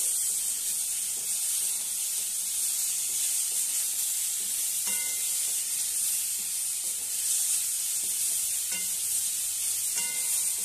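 Ridge gourd curry being stirred in a pan after salt, turmeric and sugar go in, giving a steady soft sizzle with a few scraping strokes of the spoon at intervals, no one talking.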